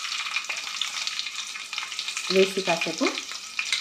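Cumin seeds and two green chillies fry in a little oil in a kadai, crackling with a dense sizzle while a voice speaks briefly over it.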